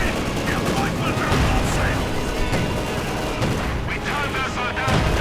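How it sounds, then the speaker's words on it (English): Panzer IV tank cannon and mixed battlefield gunfire in Company of Heroes 2, a dense continuous barrage of booms and shots layered under other combat noise throughout. "Panzer firing away"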